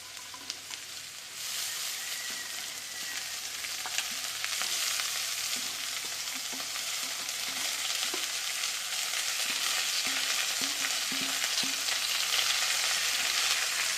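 Dill leaves sizzle steadily in a hot pan over lowered heat, with repeated scraping stir strokes growing louder after the greens go in, no voices.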